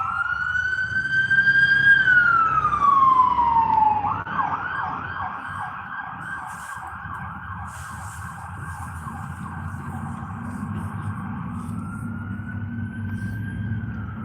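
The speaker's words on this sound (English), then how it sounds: "Or is that the ambulance?" An ambulance siren wails nearby, sliding downward, then switches to a fast repeating yelp before rising into a long wail again over traffic rumble.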